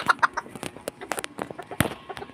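Chickens at feeding time on a small farm, giving short, scattered clucks and squawks near and far, some sharp calls standing out over soft background rustle.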